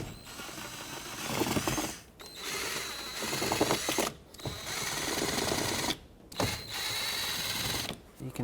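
A power screwdriver whirs in close, sustained bursts with brief pauses between them while backing Phillips screws out of a Toyota 4Runner's lower trim piece, mechanical clicking mixed in.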